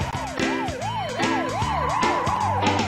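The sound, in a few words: runaway ambulance siren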